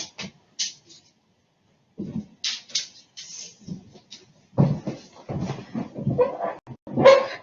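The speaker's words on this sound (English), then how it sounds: "You guys know I love my dogs because, man, they drive me crazy during classes." Several short barks and yips from a pet dog indoors, scattered in bursts with pauses between them, fairly close and moderately loud, with some whimpering and household clatter mixed in.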